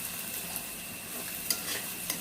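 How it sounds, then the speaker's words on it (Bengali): Onions with salt stirred in a pan while cooking kosha mangsho, a faint steady hiss with a few light spatula scrapes and taps, close but quiet and without talk. "নুনটা দিয়ে একটু নাড়িয়ে নেব"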